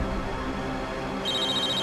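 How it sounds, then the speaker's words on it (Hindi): Telephone ringing in a Hindi television drama, a brief electronic ring tone entering partway through over a faint low background. "ये कौन बार बार फोन कर रहा है?"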